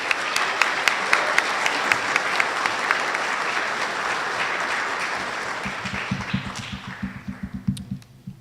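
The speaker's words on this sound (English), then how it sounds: "Let's give all of those folks a round of applause." An audience at a district spelling bee breaks into steady applause that fills the room, then thins into scattered individual claps as it fades out.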